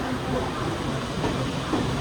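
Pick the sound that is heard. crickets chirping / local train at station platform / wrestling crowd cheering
local train at station platform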